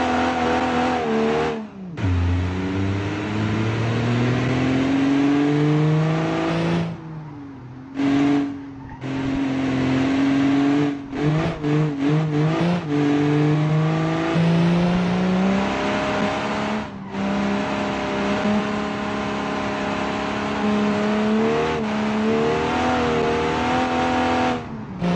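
A 1947 car engine driving in the BeamNG video game, revving loudly and continuously and rising and falling through the gears, with brief dips between shifts.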